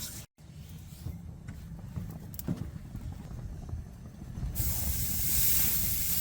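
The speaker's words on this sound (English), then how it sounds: "Oh, hear that sizzle." A steady sizzle of steak on a hot 60-inch Pro Elite 4B Golden White Q island grill, with a broad hissing spray growing louder toward the end; no talking.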